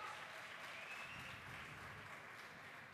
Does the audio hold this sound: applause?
yes